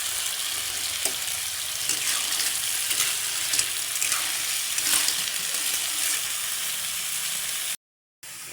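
Punaw clams sauté in a pan with ginger and onion, producing a loud, steady sizzle with light clinks and scrapes of stirring, cut by a brief dropout just before the end.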